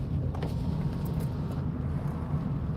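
A BMW car's engine noise heard from inside another car on a lockdown drive near Wigan, a steady low rumble lasting a few seconds with no talk.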